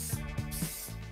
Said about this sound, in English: We're using a bit of spray adhesive.